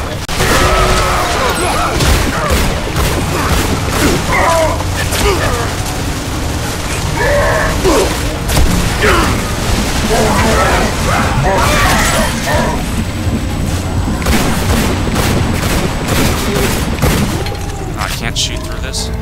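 Gunfire in the Bulletstorm video game, a dense, continuous barrage of shots, booms and crashes running loud throughout alongside game effects, with a voice talking over it.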